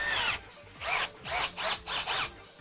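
A power drill spins a mini saw blade attachment in short bursts, five or six loud whining runs with brief gaps between them, close and alone.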